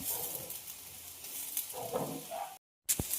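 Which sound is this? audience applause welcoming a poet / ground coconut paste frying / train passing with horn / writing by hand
ground coconut paste frying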